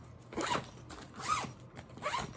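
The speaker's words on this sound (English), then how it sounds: "Let me zip it up." A zipper on a bag is pulled in three quick rasping strokes, close and fairly loud, with brief gaps between pulls and no talking.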